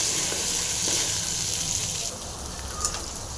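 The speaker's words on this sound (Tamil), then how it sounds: "நல்லா ஃப்ரை ஆகுது இது" Kuppaimeni herb chutney ingredients frying in a pan, a close, loud continuous sizzle and crackle with light stirring, no talking.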